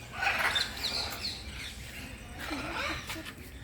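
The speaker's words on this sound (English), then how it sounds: "nearby the blue, yellow, golden macaw is making a lot of noise." A blue and yellow macaw calls with scratchy chirps and squawks, moderately loud and repeated in bursts over a faint background, with no talking.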